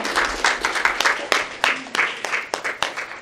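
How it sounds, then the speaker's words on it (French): A crowd at an art exhibition launch claps for a few seconds, a lively spatter of hand claps that rises and tapers off in uneven bursts. "Applaudissez bien fort."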